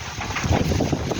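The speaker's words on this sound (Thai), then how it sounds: "บรรยากาศตอนเช้าลมแรงมากนี่ล่ะลมแบบแห้ง" Strong, dry morning wind buffets a small backyard garden in a steady, loud rush of broadband noise with gusty swells, close to the microphone and with no voices.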